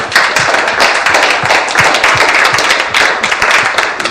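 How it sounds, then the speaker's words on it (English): Audience clapping for a man named Shane at a live presentation event, a steady wash of hands with scattered louder individual claps and a brief cheer, continuing evenly throughout. "Let's give him a big hand."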